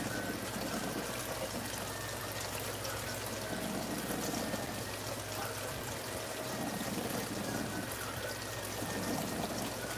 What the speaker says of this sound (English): Let me wash my hand off.